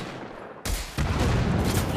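Gunfire in the first-person shooter Wolfenstein: a sharp shot cuts in loudly after a quiet moment, followed by a dense burst of rapid close-range shots.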